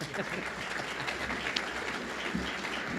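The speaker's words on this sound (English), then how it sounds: "Give him an applause." Audience applause at a military briefing, a dense, moderately loud patter of clapping hands that continues evenly throughout without a clear start or finish.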